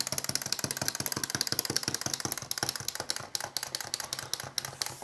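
A wind-up toy pigeon hops and clatters rapidly across a hard tabletop, giving a fast, even stream of small ticking taps that keeps going without a pause.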